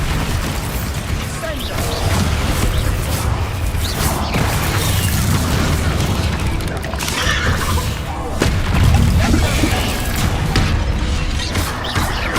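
Bombarda and other explosive spells go off in Hogwarts Legacy, a steady run of booms and crashing blasts that stays loud throughout, with voices over the combat.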